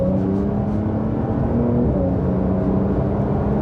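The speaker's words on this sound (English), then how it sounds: "I'm going to put my foot down without the sports exhaust on." A Porsche 992 911 with the sports exhaust switched off accelerates under full throttle. It gives a steady, moderately loud engine drone with a gently rising tone and no voices.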